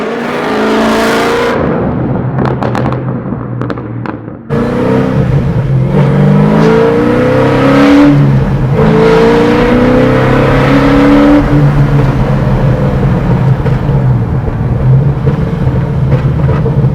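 An 800-horsepower supercharged V8 in a 1969 Chevrolet Camaro revs hard and repeatedly, a deep throaty roar rising and falling close by, with a brief pause before another sustained burst of revving.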